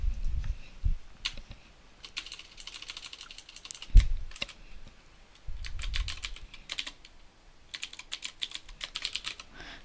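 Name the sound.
typing on a computer keyboard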